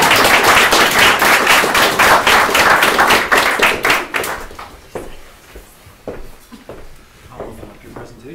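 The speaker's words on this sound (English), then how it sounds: "I still want to applaud." Audience applause at a CIID 2017 presentation event, a loud close burst of many hands clapping that thins out after about four seconds into scattered claps and room noise.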